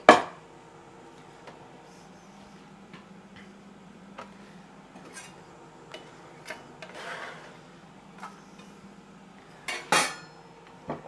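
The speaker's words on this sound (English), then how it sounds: "So I'm just gonna slice up a chili for my pasta." A knife slices a chili on a cutting board with sparse, light taps and clicks against the board, plus a couple of sharper knocks, under a low steady hum and no talking.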